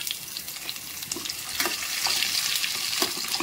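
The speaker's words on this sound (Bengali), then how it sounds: "সেই কুচানো টমেটো আর পেঁয়াজটা আমি দিয়ে দিলাম, দিয়ে ভাজা ভাজা করে নিচ্ছি" Steady sizzling of chopped onion and tomato frying in a pan, a continuous crackling hiss with occasional stirring scrapes, close and moderately loud, no talking.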